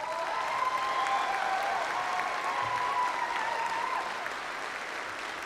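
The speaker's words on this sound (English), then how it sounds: "I'm getting a lot of applause." Sustained audience applause at a university winter commencement ceremony, a steady wash of many hands clapping from a large crowd, fairly distant and even, easing slightly near the end.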